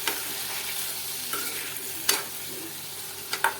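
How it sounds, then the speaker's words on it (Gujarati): Fenugreek seeds and chopped raw tomatoes sizzle in hot oil for a Gujarati tomato sambharo, with a steady frying hiss and sharp scraping clicks as a spoon stirs the pan. "આપણે મેથીના દાણા નાખીએ સંભારામાં સુગંધ પણ બહુ મસ્ત આવે એની"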